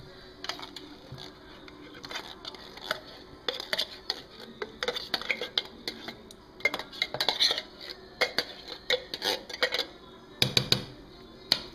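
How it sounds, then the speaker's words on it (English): Beans go into a cooking pot amid busy clatter, with rapid metallic clinks, taps and scrapes of utensils against the pot coming in irregular bursts, close and fairly crisp, with louder knocks near the end. "I'm going to put the beans in there."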